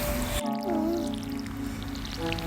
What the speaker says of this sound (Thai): รดน้ำต้นไม้ ยอดน้ำลงไป